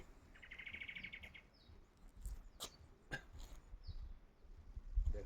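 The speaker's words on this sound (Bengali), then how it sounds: "আর শুধুমাত্র পাখির ডাক শোনা যাচ্ছে।" Birds chirp and call in a quiet, fog-bound spot near a monastery, a short run of rapid tweets followed by scattered calls over a low, calm background.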